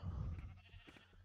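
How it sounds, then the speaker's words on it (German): Sheep bleating in the Minecraft video game, a short faint bleat or two over a low rumbling background, brief and quiet. "Das sind unsere Schafe."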